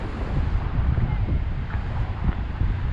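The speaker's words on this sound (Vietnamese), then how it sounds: "Đi ra ngoài này nghe tiếng sóng nó đã lỗ tai" Surf breaks on an Australian beach on a windy afternoon, a loud continuous low roar of waves mixed with gusting wind noise.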